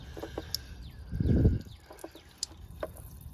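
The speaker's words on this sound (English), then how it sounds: "Oh, look at all that water that just came out." Trapped water gushes out in a brief splashing burst after a drain plug is pulled from the rocker panel of a Mercedes GL 550 rescued from a scrapyard, with quiet handling noises around it.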